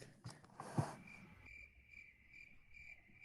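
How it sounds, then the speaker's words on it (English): Crickets chirp outside in grass, a thin high steady trill with repeating pulses, faint and alone after a brief rustle of nearby noise at the start. "you can hear the crickets outside of on the"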